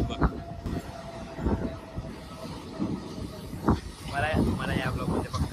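A running passenger train gives a continuous rumbling rattle with rhythmic wheel knocks, heard from on board at close range, with people talking over it.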